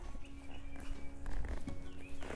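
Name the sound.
horse moving as student mounts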